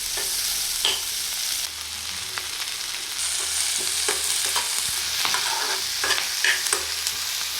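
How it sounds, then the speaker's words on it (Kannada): Onion, garlic and green chilli fry in a little oil in a pan, a steady close sizzle broken by clicks and scrapes as a spoon stirs the mix, with no talk. "ಅದೇ ಬಾಣಲಿಗೆ ಸ್ವಲ್ಪ ಎಣ್ಣೆ ಹಾಕಿ ಈರುಳ್ಳಿನ ಚೆನ್ನಾಗಿ ಹುರ್ಕೋಬೇಕು"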